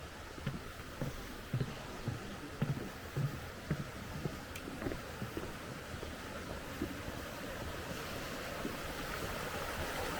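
Broadband rushing water of a mountain river running alongside a flat, half-shaded hiking trail in the Clarée valley near Névache, steady and continuous with faint footsteps and light wind noise.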